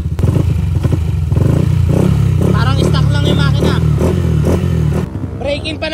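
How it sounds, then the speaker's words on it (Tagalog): Yamaha NMAX V2 scooter with a 215cc engine, heard close in a workshop as its motor clatters and revs unevenly while someone talks over it. The engine noise drops away near the end. "Ngayon, inaayos na lang itong sa spark plug para mag-start yung motor."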